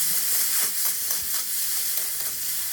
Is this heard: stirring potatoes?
yes